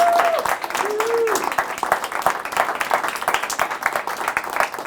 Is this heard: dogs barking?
no